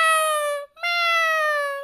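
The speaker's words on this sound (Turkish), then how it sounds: "Hayır dur miyavlama." A Minecraft cat gives a long, clear, high meow that breaks off briefly and continues in a second drawn-out cry, loud and close with nothing else behind it.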